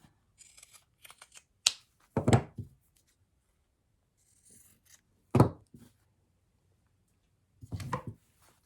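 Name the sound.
pinking shears cutting fabric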